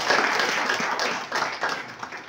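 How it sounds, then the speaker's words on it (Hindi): Steady applause from a crowd at a pigeon flying tournament prize ceremony, dense and continuous clapping at close-to-mid distance with little talk underneath. "एक दफा जोरदार तालियां"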